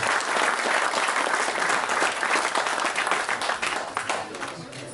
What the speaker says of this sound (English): give a round of big applause to all the performers and the volunteers